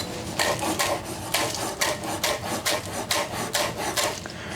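A knife chops shallots into tiny pieces on a board, a steady series of close, crisp rhythmic strikes, about two per second, with no talking.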